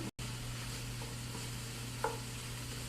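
Sausage for red beans and rice cooks in a pot with a faint, steady sizzle and low hum, broken by a short gap near the start and a small clink about two seconds in.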